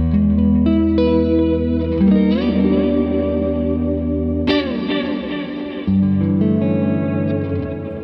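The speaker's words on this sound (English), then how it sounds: "Let's put on some big ass delay and reverb." Electric guitar played through a Fuzzrocious Feed Me pedal with heavy delay and reverb, loud sustained chords and notes smearing into long echoing tails, one sharp strummed attack midway, with no talking.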